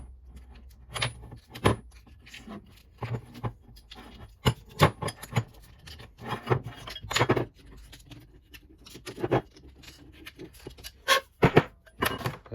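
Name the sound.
deburring metal rack mount part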